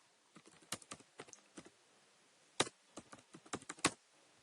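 An S3 bucket name is typed on a computer keyboard, close crisp key taps in two uneven bursts with a short pause between them.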